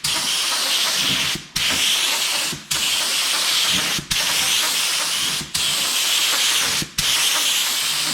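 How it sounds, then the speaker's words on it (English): Spray gun laying filler primer onto a reskinned truck door, a loud steady hiss of atomized spray in long bursts of about a second and a half, each cut by a brief pause between passes, with no talking. "I'm going to start shooting the filler primer"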